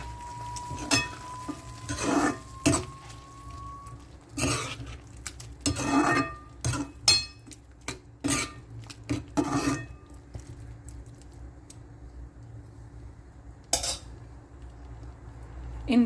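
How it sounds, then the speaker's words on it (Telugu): Crushed chickpeas being stirred in a hot pan for chana masala, a metal spoon scraping and rasping against the pan in irregular strokes with a faint sizzle, loudest in the first half and sparser later. "చక్కగా కలుపుకోవాలి."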